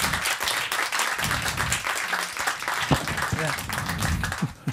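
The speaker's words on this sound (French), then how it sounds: "on peut l'applaudir" A crowd claps and applauds steadily and loudly, with voices mixed into the noise.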